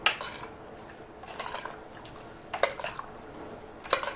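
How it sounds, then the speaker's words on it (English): A spoon stirs a pot of tofu collard green chili with added seasoning, giving scattered scraping and clinking strokes with soft liquid sloshing, fairly quiet and close. "Stir all that up."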